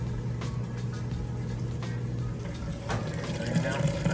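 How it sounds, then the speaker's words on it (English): Maytag Centennial washing machine draining its wash water before the rinse cycle, a steady low pump hum with sloshing water running throughout, fairly close and even in level. "we're moving out of the wash cycle into the rinse cycle and it's draining that water out"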